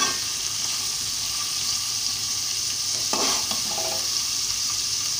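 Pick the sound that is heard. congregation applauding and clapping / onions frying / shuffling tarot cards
onions frying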